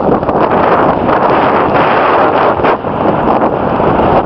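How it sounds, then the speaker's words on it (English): Strong wind buffets the microphone just outside Suileag bothy in the Scottish hills, a loud, continuous roar with gusty surges and no voices. "And windy here."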